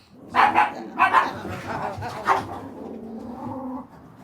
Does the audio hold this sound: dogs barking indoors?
yes